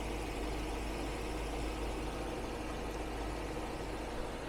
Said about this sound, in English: let's just listen 1 second to the engine, to how smoothly and quietly it idles